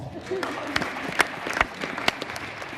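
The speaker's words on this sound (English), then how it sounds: "Give Logan a round of applause." A brief patter of applause from a small group, scattered claps with a few sharp peaks, fairly quiet and a little distant.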